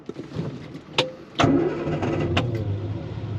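The restored 1968 Triumph TR250's 2.5-litre inline-six cranks with a few sharp clicks, then fires up and settles into a steady, rumbling idle, close and clear.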